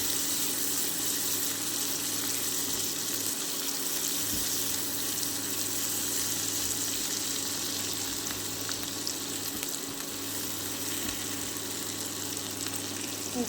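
Two large sliced onions frying in a pan, a continuous close sizzle holding steady throughout with a low background hum and no talking.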